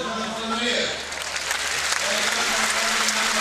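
A crowd gives sustained applause and a standing ovation for a retiring skater at a large skating event. The clapping is dense and steady throughout, with a commentator's voice over it.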